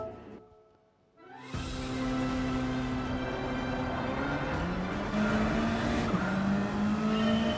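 Race cars in Gran Turismo 7 roar off the start of the World Touring Car 800 at Le Mans, a near, loud engine surge rising steadily in pitch after a brief quiet, with no talk over it.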